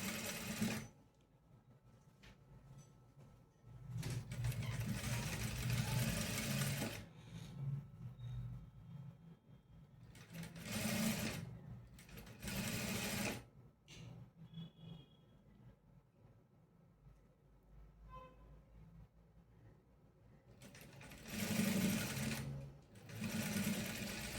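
An electric sewing machine stitches darts into a blouse in several close, whirring bursts of rapid needle clatter, each lasting a few seconds and separated by quiet pauses.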